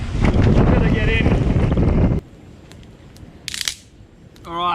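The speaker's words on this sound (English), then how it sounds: "It's getting too rough out here. Super windy, super choppy." Strong wind buffets a small fishing boat on a rough, choppy sea off Indonesia, a loud broadband rush for about two seconds, then quieter wind with a brief gust and a voice at the end.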